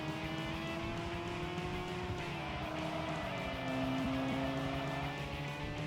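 An upgraded car's engine in the PS2 racing game Tokyo Xtreme Racer 3 drones at a steady pitch, a smooth harmonic whine held at a modest level throughout.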